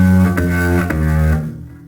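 An electric bass plays a short whole-step and half-step note pattern, with sustained low notes shifting pitch a couple of times before fading into quiet, played alone.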